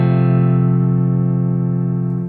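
A sustained piano chord from Happy Birthday rings out alone, loud at the start and slowly decaying over about two seconds.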